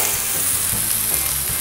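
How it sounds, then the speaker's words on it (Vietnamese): Onion stir-frying in hot cooking oil gives a steady, loud sizzle, with soft scraping stirs spaced through the short stretch and no voices. "Rồi, mình xào lên."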